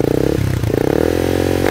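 A motorcycle engine starts and idles with a loud, close, rhythmic chugging after its battery is replaced with a Koyoko unit, then rises as the throttle is revved near the end.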